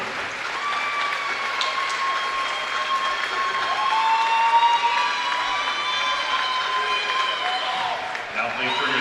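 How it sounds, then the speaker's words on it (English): A crowd at a boys basketball sectional championship game between Eastside and Churubusco applauds and cheers for the teams, a sustained, dense wash of clapping with shouting voices mixed in, holding steady before easing off at the end. "Let's give all the teams a big round of applause in the 2A section of the show"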